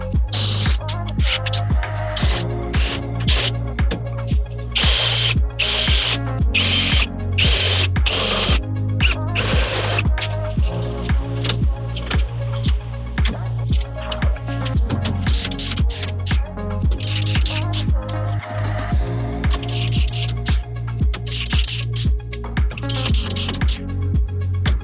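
A drill and a rivet tool work through DIY cabinet panels as they are joined, clearancing, countersinking and riveting. Loud, close, rhythmic repeated mechanical bursts and metallic clicks, one after another with no pauses and no voices.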